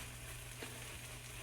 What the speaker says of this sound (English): So y'all hear the sizzle maybe.